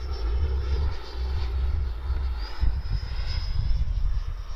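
An FMS 80mm F-86 electric ducted fan RC jet with retracts deployed flies overhead, giving a steady, airy whine with a rising tone over a constant low rumble, fairly loud and alone.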